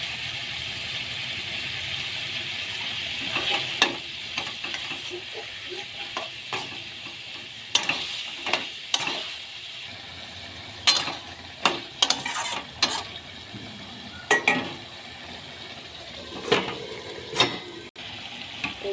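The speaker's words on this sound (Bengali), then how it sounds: "ঝিঙেটা কষা কষা হয়ে গেছে" Ridge gourd with ginger and garlic paste sautéing in a pan: a continuous sizzle broken by irregular scraping stirs, close and moderately loud, with no speech.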